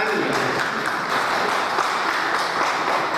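An audience at a youth blessing-day event gives a loud, dense round of applause, continuous and even throughout, with voices faintly mixed into the clapping.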